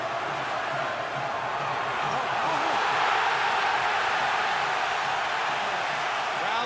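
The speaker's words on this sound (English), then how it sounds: "Crowd thunders its appreciation" A boxing crowd at the Mayweather vs Hatton fight sends up a broad, sustained roar of cheering that holds steady and fills the arena throughout.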